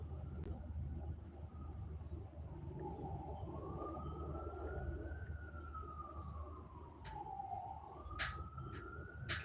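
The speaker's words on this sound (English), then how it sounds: "Y'all hear the sirens?" Sirens wail in the distance, rising and falling in long slow sweeps over a steady low rumble, with a few sharp clicks near the end.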